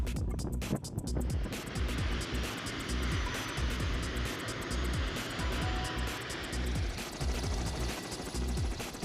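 Rescue helicopter on standby at an aviation base, starting up for a forest fire response in Chuncheon, Gangwon Province; a steady, close turbine whine and rotor-engine drone builds and holds throughout, with no talk.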